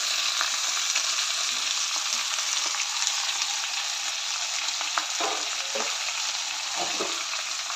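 Fenugreek leaves sautéed in a pan for a dal and methi dish give a continuous close sizzle with occasional stirring scrapes, steady and loud throughout, with no voices.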